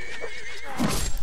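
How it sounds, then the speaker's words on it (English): A horse neighs in the video game Mount & Blade, one short high whinny that wavers in pitch, followed by a burst of thumping and hoof noise. "Look at that horse."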